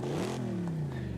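Cosworth-tuned 4-liter car engine in the game Forza Horizon 5 revs briefly, a mid-pitched rising then settling engine tone heard alone at moderate volume.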